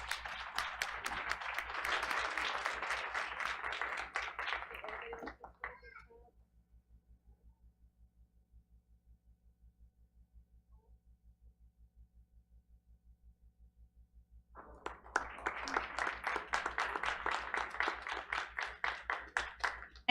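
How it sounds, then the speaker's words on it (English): Applause from the audience at a school board meeting comes in two bursts of clapping, the first fading out and the second starting after several seconds of near silence over a low hum. "Let's give her another round of applause, please."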